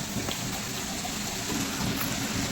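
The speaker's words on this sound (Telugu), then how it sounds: "వర్షం చూసారు ఎలా వస్తుందో బాగా పడుతుందండి" Heavy rain pours down steadily, a dense, loud, unbroken hiss of drops striking surfaces close by, with no voices.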